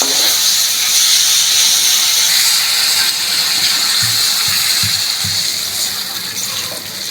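Water poured into simmering vegetable curry in a pan makes a loud, continuous gushing hiss, followed by a few low bumps near the end as the pouring eases.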